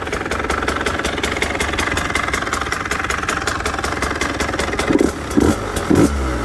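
A Husqvarna TE150i two-stroke motocross bike idles up close with a loud, steady crackling putter, then gives a few short blips of the throttle near the end.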